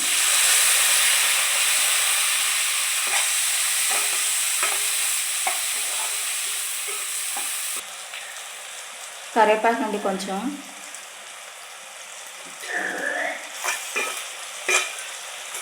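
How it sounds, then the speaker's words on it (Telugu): Ridge gourd and egg curry with onions, tomatoes, green chillies and cumin sizzles steadily in a pan, with bursts of scraping stirring; brief speech and a faint high-pitched voice break in partway. "దీంట్లో కర్రీ వండేసుకుంటున్నాము"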